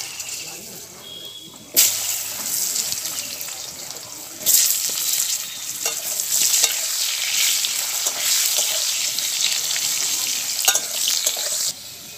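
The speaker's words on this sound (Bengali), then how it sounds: "আমি এবার আলুগুলো ভেজে নেব।" Potatoes fry in oil left over from frying rui fish, a close, crackling sizzle broken by sharp bursts as pieces go in and are stirred and turned in the pan.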